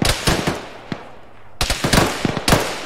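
Video game Arma gunfire coming from a building, with loud rapid bursts of automatic shots in sharp repeated cracks, a brief lull, then more volleys, close and dominant.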